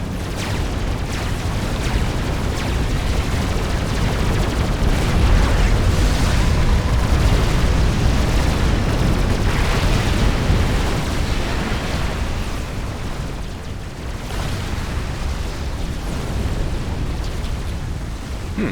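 Flak explosions in a strategy video game, a dense continuous roar of booming blasts and rumbling bursts lasting throughout, loud and unbroken, with no talk.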